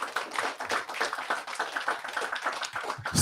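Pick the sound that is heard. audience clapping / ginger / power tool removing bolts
audience clapping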